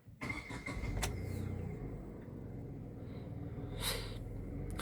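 A Tata Nexon's three-cylinder engine turns over and settles into a low, steady idle, with a few faint clicks and a soft hiss nearby.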